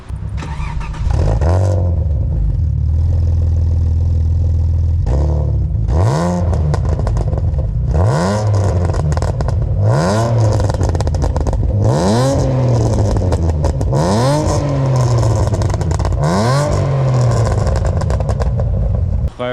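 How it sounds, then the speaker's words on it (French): Alfa Romeo Spider 916 with a 3.0-litre 24-valve V6 and large-volume exhaust, revved repeatedly in about six loud, close throttle blips, each rising and falling over a deep droning idle. "ça bourdonne un petit peu à bas régime, c'est un peu le défaut parce que c'est des échappements à gros volume"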